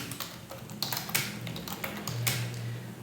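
A handful of soft keyboard taps on a computer keyboard while the Alt key is held to enter a code, the clicks scattered and quiet over a low steady hum.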